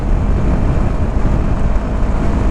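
Yamaha R3 motorcycle cruising on a highway at about 75 to 80 mph near 8,000 RPM, a steady loud engine drone mixed with heavy wind rush, with no talking.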